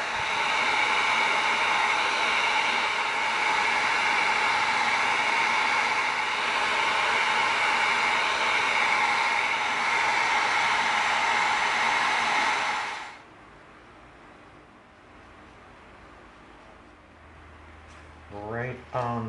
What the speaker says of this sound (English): we're gonna bring in our heat gun.